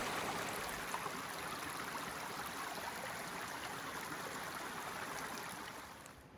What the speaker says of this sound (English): I'm gonna clean up a little bit in the creek